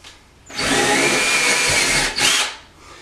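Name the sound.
power drill drilling into drywall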